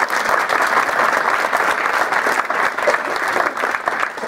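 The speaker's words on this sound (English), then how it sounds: "Let us warmly welcome them with a round of applause." An audience at a campus lecture on Judaism gives a warm round of applause, steady, moderately loud clapping from many hands lasting a few seconds.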